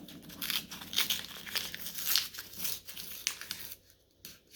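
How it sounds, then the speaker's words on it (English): Paper crinkles and tears in short, close bursts as a mail envelope holding WW1 and WW2 militaria cards is carefully opened by hand, ending in a brief quiet pause. "I think I'd be better at opening normal envelopes by now, but I'm always afraid to bend cards and things."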